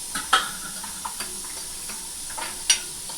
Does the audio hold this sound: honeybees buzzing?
no